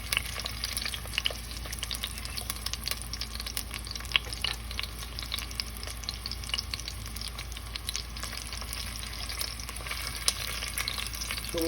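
Sausage fries in oil in a pan, giving a steady, close sizzle with scattered pops and crackles that runs without a break and without any talk.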